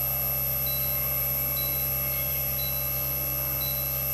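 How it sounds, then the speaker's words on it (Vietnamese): A Daikin R32 air conditioner showing error code E7 gives short, faint beeps about once a second, nearly buried under a constant electrical hum. "các bạn thấy E7 chỉ kêu bíp thôi chứ không kêu như lúc nãy"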